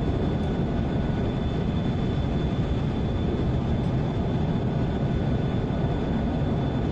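A steady, loud roar from an F-5 jet fighter's engine in a flight combat game, an unbroken drone holding at an even level with no talk.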